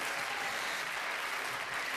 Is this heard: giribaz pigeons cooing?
no